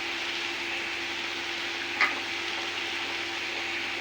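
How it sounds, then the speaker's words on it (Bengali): A vegetable curry fries in a pan with a steady, close hiss of sizzling that holds evenly throughout, broken once midway by a single short scrape or clink of the spoon stirring; no voices. "সব তরকারিটা একটু আউলে আউলে দিতে হয়, নাহলে ডালা হয়ে থাকবো।"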